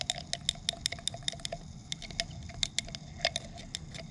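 Zinc reacting with hydrochloric acid, giving off hydrogen gas: a quiet run of small, irregular bubbling and popping pops and patters over a soft low hiss, with no voices.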